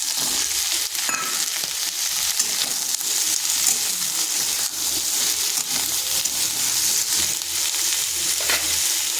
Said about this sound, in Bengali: পটলটাকে হালকা ভেজে নিয়েছি। এরপর দিয়ে দিচ্ছি কেটে রাখা আলুগুলো।